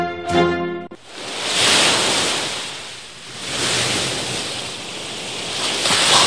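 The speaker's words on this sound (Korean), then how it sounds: "파도 소리," Ocean waves break on the shore in a broad, rushing wash that swells and recedes, following a brief tonal musical note at the very start.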